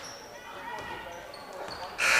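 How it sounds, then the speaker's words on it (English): At a high school boys' varsity basketball sectional game, the end-of-quarter buzzer blares loud and sudden at the close, after a stretch of gym crowd noise and squeaks. "And there's the buzzer."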